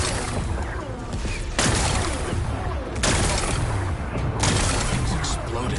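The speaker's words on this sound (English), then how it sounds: "It's exploding." Rocks blasted apart in Horizon Forbidden West, heard as heavy booming bursts, the two loudest near 1.6 and 3 seconds, over a rumbling game bed while a voice talks.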